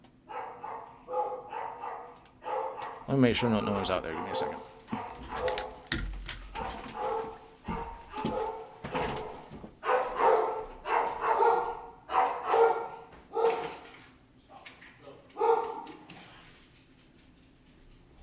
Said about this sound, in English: the dogs just bark at every fucking thing. And they were barking at neighbor kids walking.